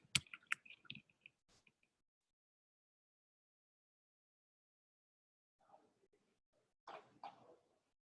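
Computer keyboard typing in quick, faint clicking bursts, a cluster at the start and another short run near the end, separated by silence.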